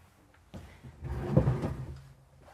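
A drawer in a 2022 Newmar Ventana 4326 motorhome slides open and shut, a single soft rolling thump and scrape rising about halfway through, close and fairly quiet, with no talking.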